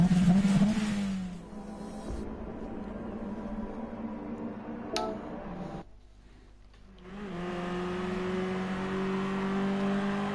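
A 1980s BMW M3 engine in Gran Turismo Sport drones steadily at high revs, dips briefly as the car shifts or lifts, then climbs back to a sustained whining roar.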